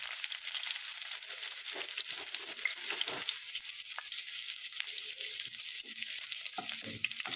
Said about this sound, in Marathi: आता तेल तापलेलं आहे। आता आपण यामध्ये कांदा घालूया।